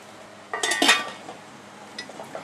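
A lid clanks down onto a pot of cucumber pachadi with one bright metallic clatter, followed by a few faint clinks as it settles.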